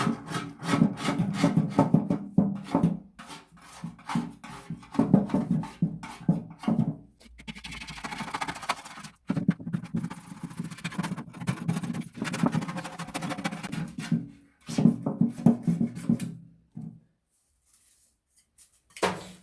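A hand scraper rasps paint off a motorcycle fuel tank in close, repeated rough strokes, with short pauses between bursts of scraping and quiet near the end.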